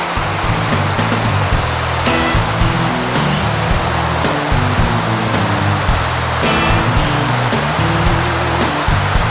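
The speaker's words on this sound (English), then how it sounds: "Second waterfall." Waterfall on the Rynda river rushing in a loud, steady roar that runs unbroken throughout, with no voices over it.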